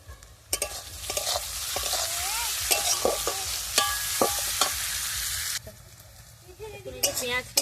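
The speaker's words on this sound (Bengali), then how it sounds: "পেঁয়াজ কিন্তু এই যে ভাজা হয়ে গেছে" Sliced onions fry with a little salt in a pan for a chicken biryani, giving a steady close sizzle broken by repeated sharp scrapes and clinks of a spatula stirring, with a brief quieter pause before the stirring resumes.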